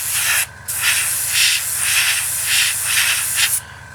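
An airbrush sprays thinned paint onto the wing of a 1/32 scale model aircraft with a loud, steady hiss that cuts out briefly and then resumes, while a low mechanical hum runs beneath it.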